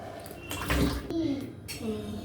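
Running water splashes in short bursts as hands are washed under a tap in a home kitchen, with people talking over and between the gushes.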